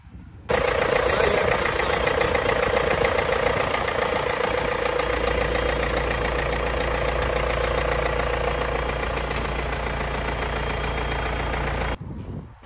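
A John Deere 6300 tractor engine starts and runs at a steady, droning idle, loud and continuous until it stops near the end.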